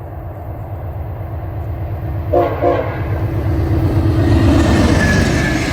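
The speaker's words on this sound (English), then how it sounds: "we just heard another train whistle" A freight train on a Canadian rail line near Cornwall, Ontario gives a short whistle blast over a steady rumble of rolling cars, moderately loud and fairly close, with no talking.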